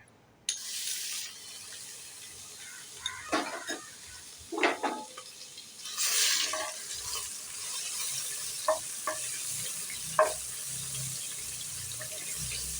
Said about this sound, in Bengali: তেলটা চাপিয়ে দিয়েছি, তেলটা গরমও হয়ে গেছে, রান্নায় চলে আসলাম। এবার চিংড়ি মাছগুলো দিয়ে দেবো।